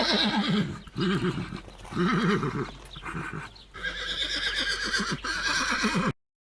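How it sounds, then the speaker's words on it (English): Horses neigh and whinny loudly in several drawn-out, wavering calls, with hooves clip-clopping beneath and between them, close by and with no talk. "Before going further, let's watch some happy horses first."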